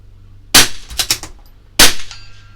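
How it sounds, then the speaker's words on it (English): A CZ 457 LRP rifle fires RWS Target Rifle ammunition in two sharp, loud cracks about a second apart, with quick metallic clicks of the bolt being worked between them. "So double tapping with the RWS Target Rifle ammunition."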